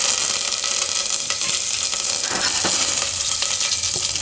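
Curry leaves, red chillies and cumin seeds sizzling in hot oil on a lowered gas flame, a steady bright frying hiss with small crackles and pops, close and continuous without any talk.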